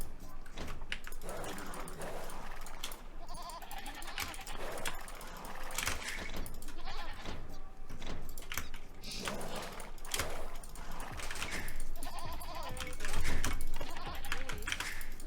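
Sheep and goats bleating in the Age of Empires strategy video game, repeated short bleats scattered among clicking interface sounds and game effects across a busy, steady soundscape.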